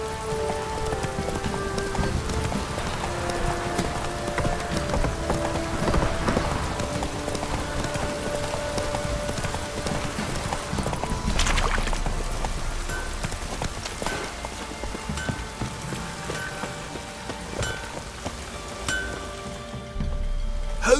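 Horse hooves galloping in steady rhythm through rain in The Witcher 3, a continuous close clip-clop under a soft wash of rainfall and ambient game sound.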